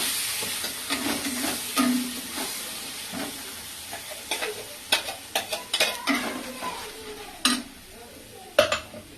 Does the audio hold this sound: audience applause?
no